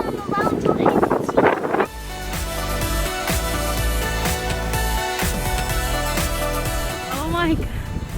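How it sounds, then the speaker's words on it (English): Strong wind blows outdoors in Australia, a loud steady rush and buffeting on the microphone that runs throughout, with people talking nearby at the start and near the end. "It's so windy, Jude."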